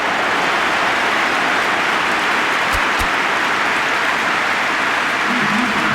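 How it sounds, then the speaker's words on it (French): Stadium crowd in eFootball PES 2021 applauding as a substituted player leaves the pitch, a steady broad wash of clapping and crowd noise filling the full clip at constant loudness with no talk. "Il quitte le terrain, applaudi par tout un stade."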